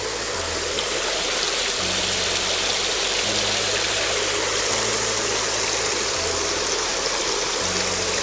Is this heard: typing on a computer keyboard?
no